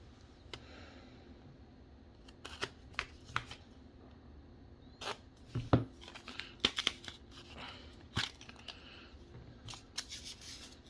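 Tape peeled off a silver coin holder, close and quiet, heard as scattered sharp tearing and crinkling bursts at an uneven pace, with no talk.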